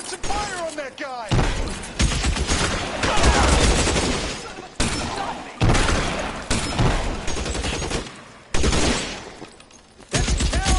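A shootout in LA Noire erupts in heavy bursts of gunfire, with loud volleys and shots separated by brief pauses, mixed with impact sounds and shouting voices.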